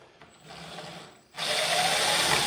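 A power drill starts a shallow pilot hole in a wooden kitchen base cabinet, a quiet grind and rub first, then a loud, steady whir of the bit biting into the wood.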